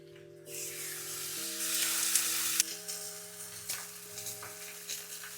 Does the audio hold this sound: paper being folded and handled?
no